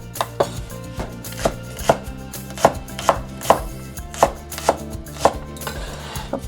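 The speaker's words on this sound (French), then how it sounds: "pour la cébette, je vais couper en 2 parties, la partie blanche et la partie verte" A knife chops spring onion on a board in about a dozen crisp, evenly spaced strikes, close and clear with no voices.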